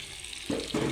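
Water is poured into a pan of Nepali meat curry in two short splashing bursts, close and moderately loud over a faint background hiss.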